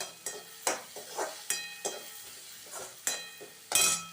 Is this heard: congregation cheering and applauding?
no